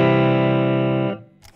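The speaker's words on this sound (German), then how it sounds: "Wenn ich jetzt hier in Low gehe, habe ich tendenziell noch weniger Verzerrung am Start." An electric guitar chord rings through an amplifier set to its low input, carrying slight distortion, sustaining strongly for about a second before cutting off, with a brief scrape of noise afterward.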